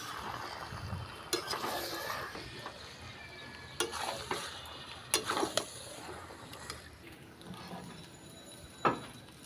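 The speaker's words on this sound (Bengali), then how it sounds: "মাংসটা দিয়ে ভালো করে মাংসটাকে মশলার সাথে মিশিয়ে নিচ্ছি" Broiler chicken pieces are stirred and fried with spices in a pan, a soft continuous sizzle broken by sharp scraping clicks of the spoon at irregular intervals, with no talking.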